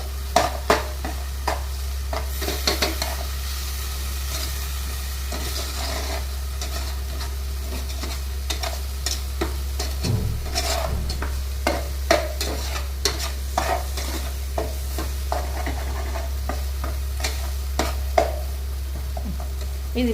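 Tomatoes cooking down with chili powder and turmeric in a pan, a continuous sizzle with frequent stirring scrapes and clicks, alongside a steady low hum throughout.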